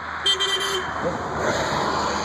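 A single car horn sounds briefly and at moderate distance over steady roadside traffic noise outdoors, a short toot near the start amid passing vehicles.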